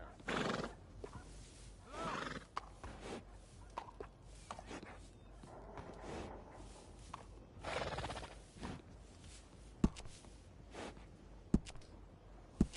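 A horse neighs and snorts at a stable in the video game Red Dead Redemption 2, with several whinnies and breathy snorts, soft hoof clops and a few sharp knocks, fairly close and moderately quiet.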